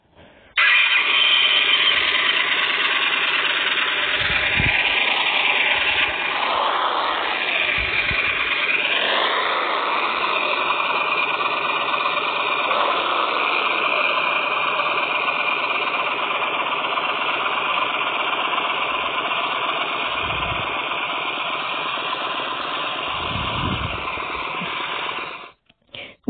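Yamaha V-Star 1300 Tourer motorcycle engine cranking over and catching, then idling in a steady, loud, continuous rumble for over twenty seconds, with no talking.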